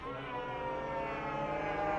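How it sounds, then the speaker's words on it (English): A horn in a video game gives a single, steady, sustained blast that is brassy and siren-like, heard alone for about two seconds. "blow this horn, which sounds like this"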